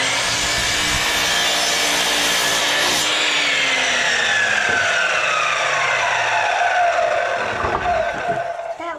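Handsaw blade cutting through very hard wood for a nest box, loud close rasping strokes that run steadily for several seconds before easing off at the end.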